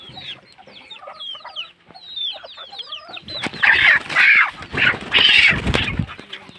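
Chickens cluck and chirp close by, a run of short rhythmic clucks and peeps giving way to louder, busier squawking and fluttering.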